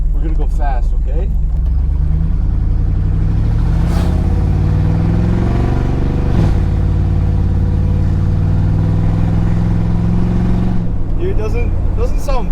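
A pickup truck engine roars up close, climbing in pitch through repeated gear shifts as it accelerates hard, with brief voices near the start and end.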